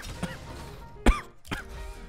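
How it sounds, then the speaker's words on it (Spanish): A few short coughs and throat clearing, close by, spaced apart with quiet between them. "Esa es la tos nerviosa."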